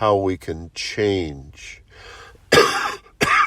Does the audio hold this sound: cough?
yes